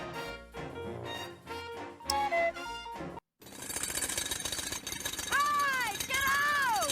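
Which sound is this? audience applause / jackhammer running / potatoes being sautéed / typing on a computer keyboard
jackhammer running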